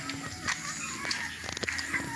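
Chickens on a farm cluck and crow in a steady, moderately loud chorus, with sharper calls rising now and then over the flock's background noise.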